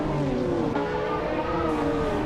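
Race cars at the start of a race at Donington Park Vintage Track in a racing video game, including a 1996 Porsche 911 GT1, make a dense, continuous engine drone with layered revving.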